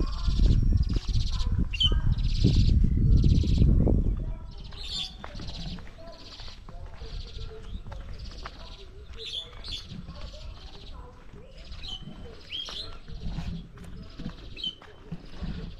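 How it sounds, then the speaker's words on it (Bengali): Birds twitter and chirp in trees around a shaded village, a steady stream of short high calls at middle distance, masked at first by a loud low rumble that drops away after a few seconds. "তো গাছে পাখি ডাকছে কিচিরমিচির শব্দ করে।"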